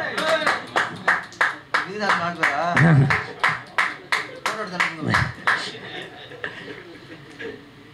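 Audience applause at a music album launch, a run of loud, sharp bursts of clapping rising and falling in waves, with a voice talking over it throughout.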